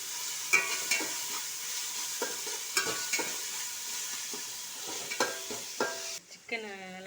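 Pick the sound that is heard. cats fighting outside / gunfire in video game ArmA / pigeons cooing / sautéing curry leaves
sautéing curry leaves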